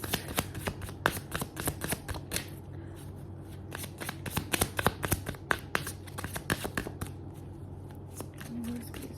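Tarot cards are shuffled up close in a quiet room, giving rapid bursts of crisp riffling and flicking snaps at an uneven rhythm. Faint speech murmurs briefly in the background.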